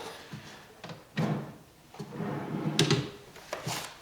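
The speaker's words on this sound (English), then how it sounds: "I need to pop this drawer out" A wooden inset drawer slides out of a furniture cabinet in several short scraping, knocking movements spread over a few seconds, close by and moderately loud, with no talking.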